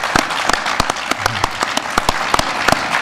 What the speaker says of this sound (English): So I'd like us to give a big round of applause to Trevor.